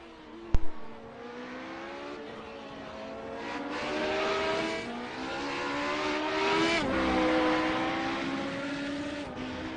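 Historic race car at Silverstone circuit heard close at first with a sharp click, then engine revving and rising through gears, a brief lift and re-acceleration mid-way, loud and continuous without talk.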